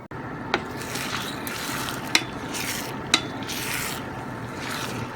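Scrambled egg mixture sizzles steadily in a frying pan while a utensil stirs and scrapes, with a few sharp clicks of metal against the pan.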